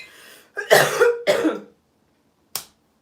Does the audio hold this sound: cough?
yes